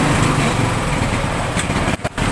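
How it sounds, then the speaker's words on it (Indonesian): A fuel-injected Honda Beat scooter engine runs loud and close with a steady, buzzing small-engine drone, cut by two brief dips near the end. "Tapi kalau kita engkol sekali lagi ini pasti hidup."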